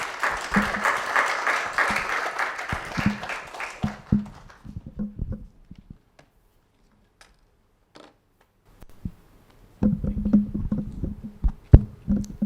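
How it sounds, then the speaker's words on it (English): An audience at a keynote event for a think tank in Ghana applauds: dense clapping for about four seconds fades into scattered claps and near silence, then a second burst of applause rises toward the end. "A round of applause for Mr. Pianim, please."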